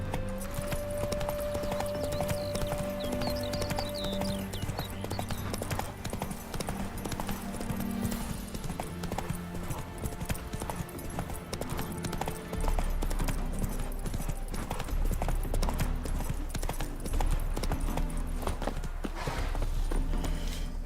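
A horse's hooves beat in steady clip-clop rhythm in the video game The Witcher 3, loud and continuous beneath game music with low droning tones.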